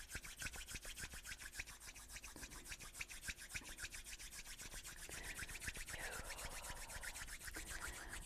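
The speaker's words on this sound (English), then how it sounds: "you can rub the palms of your hands together" Palms of the hands rub together in a quick, steady back-and-forth swish, close and quiet, alone for several seconds.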